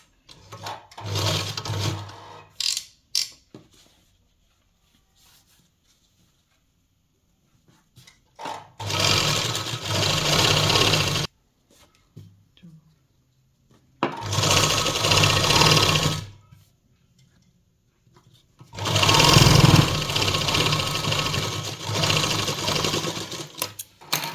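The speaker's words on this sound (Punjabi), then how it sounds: "ਇਸ ਤਰ੍ਹਾਂ ਕਰਕੇ ਆਪਾਂ ਇਹਦੇ ਉੱਪਰ ਸਲਾਈ ਮਾਰ ਲੈਣੀ ਆ" Sewing machine stitching piping onto the lining of a Punjabi suit, running in three long bursts of steady whirring separated by pauses with light handling noises, no talk.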